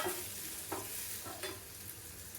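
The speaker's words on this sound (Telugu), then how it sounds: "ముందుగా కట్ చేసుకున్న ఆనియన్స్ ఆనియన్స్ వేసి మంచిగా ఫ్రై చేయాలి" Chopped onions frying in a pan for Rayalaseema-style ridge gourd and moong dal fry, a steady close hiss of sizzling oil with a few soft scrapes of stirring, no talking.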